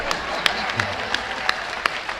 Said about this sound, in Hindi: बजाओ तालियां, बजाओ।